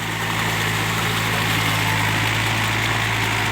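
A Yanmar 51-horsepower tractor engine idling steadily, a close, continuous low rumble with constant vibration and no voices.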